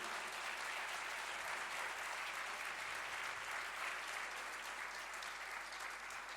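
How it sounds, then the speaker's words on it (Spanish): A church congregation applauds after a Scripture reading during a Spanish-language sermon. The clapping is dense and continuous but soft and distant, holding an even level throughout. "Le da un aplauso a la palabra del Señor."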